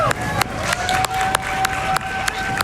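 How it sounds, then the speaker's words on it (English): Audience at the end of a Summer Games Done Quick speedrun of Uncharted 3: Drake's Deception, a dense crowd noise of cheering and clapping, with sharp bursts recurring through the steady roar. "Can we get another round of applause"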